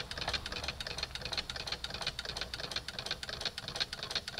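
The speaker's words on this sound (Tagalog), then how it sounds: "nagre-reciprocate po yung kanyang piston po doon sa loob nitong dalawang to" A prototype piston-type reciprocating electric motor running, giving a fast, even mechanical ticking and knocking with a rapid regular beat, fairly quiet and close, with no voices.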